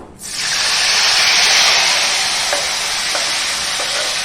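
Tomato pieces hit a hot pan of frying ridge gourd, setting off a sudden loud sizzle that holds as a dense, steady hiss with a few faint stirring ticks, close up.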